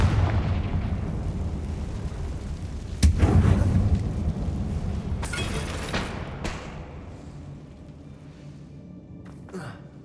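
Confringo spell blasts in Hogwarts Legacy, a few sharp bursts and crackling booms over a continuous rumbling combat background, the loudest hit near the middle and fainter pops trailing off toward the end.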